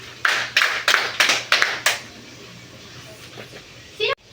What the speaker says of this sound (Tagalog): Bigyan naman natin sila ng 5 palakpak